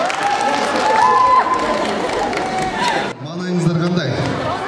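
Audience at a live stage show clapping along, a dense crowd sound under a voice speaking, cutting off abruptly partway through as the speech continues.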